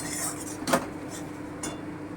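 A spoon stirring raw banana kofta curry in a pan, giving a couple of distinct metallic clinks against the pan over a soft, low background.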